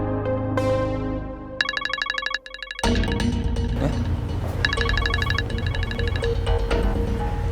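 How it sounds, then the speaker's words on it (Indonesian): A mobile phone plays a melodic ringtone during an outgoing call, loud and close, with repeated electronic patterns and a brief gap before the tune resumes over music-like backing. "Gue coba telepon Marik dulu ya"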